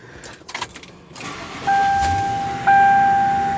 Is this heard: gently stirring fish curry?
no